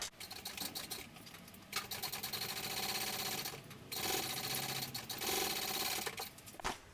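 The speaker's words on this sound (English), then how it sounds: "Next we want to go ahead and top stitch this top edge." Sewing machine top stitching along the top edge of a fabric sling, a close, rapid mechanical whirr running in several bursts separated by short pauses.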